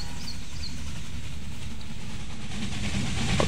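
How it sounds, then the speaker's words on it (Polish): Trains pass each other in the rail-management game Railway Empire, a steady rumbling and clattering of rolling stock with faint hiss, continuous and even throughout. "O, tu się minęły pociągi."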